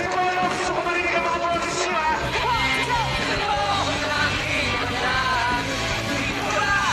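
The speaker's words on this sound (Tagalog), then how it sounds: "Non-stop ang hiyawan at kantahan kasama ang mga lodi nating banda" A live concert crowd yelling, cheering and singing along with bands, a dense, loud, continuous roar of many voices with wavering sung pitches throughout.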